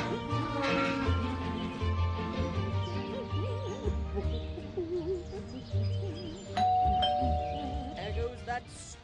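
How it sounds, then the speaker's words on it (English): A doorbell chimes in the video game Scary Teacher 3D, a clear held tone ringing out partway through over game sounds and character voices. "stupid bell again."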